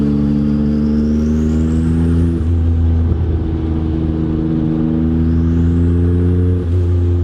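Twin-turbo Porsche 930 heard from inside while driving, a loud steady engine drone with rising whistling turbo spool that swells and drops twice.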